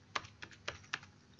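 A handful of distinct keystrokes on a computer keyboard, about four quiet clicks spaced evenly over a second and a half, close and faint with no voices.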